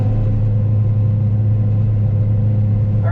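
A vehicle engine runs with a steady, deep low rumble and a constant drone while being driven across a summer fallow field, close and continuous with no talking.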